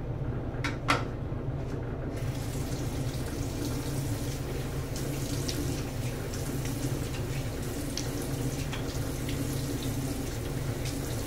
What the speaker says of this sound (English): let's rinse off for the last pass